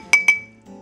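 Two bright metallic clinks of a spoon against a cooking pot holding simmering spaghetti sauce with meatballs, close and sharp, each ringing briefly before a quiet low hum.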